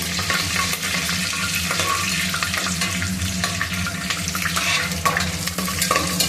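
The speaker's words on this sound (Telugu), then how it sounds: "నెయ్యి నూనె కలిపి వేడైనాక మసాలా దినుసులు వేస్తున్నాను" Whole spices and cashews frying in a mix of ghee and oil, giving a loud, continuous sizzle with scattered clicks and scrapes of stirring throughout, with no voices.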